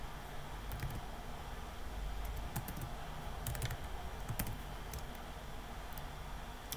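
Typing on a computer keyboard makes quiet, scattered clicks and short key taps over a faint steady background hum.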